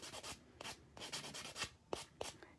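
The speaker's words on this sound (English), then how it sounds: "keep the foam side of the buffer at your cuticle's end, because it'll be much more gentle on your cuticle" Quiet rubbing strokes of a foam-backed nail buffer with sandpaper working a fingernail near the cuticle during a dip nail manicure, several short scrubbing passes in an irregular rhythm, close and soft with no talking.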